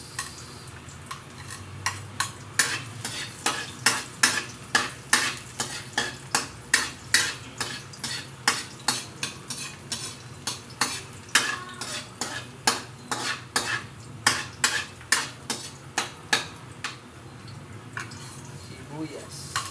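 Garlic frying in a pan for pinakbet, stirred with a utensil that clicks steadily against the metal at a quick, regular rhythm over a soft, constant sizzle, close and fairly loud, with a voice speaking briefly.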